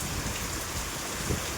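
Heavy rain pours down steadily on an afternoon in farm country, a dense, unbroken hiss close by with no voices.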